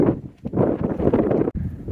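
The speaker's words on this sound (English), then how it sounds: "Windy day." Strong gusting wind buffets the microphone in a continuous loud rumble, dipping briefly twice before surging back.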